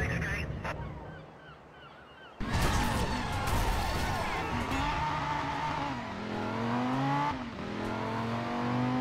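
A car engine in Driver: San Francisco accelerates after a short quieter stretch, rising in pitch with gear changes and some tire skid, loud and steady game audio.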